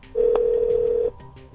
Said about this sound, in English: Calling Angela Douglas on mobile